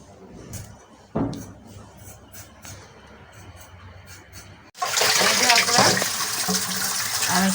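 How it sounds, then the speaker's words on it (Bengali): Tap water pours loudly and steadily into a pot or bowl over diced vegetables in a village kitchen, starting abruptly partway through after a quieter stretch with faint handling noises. "আমি সবজিটা ধুয়ে নিচ্ছি।"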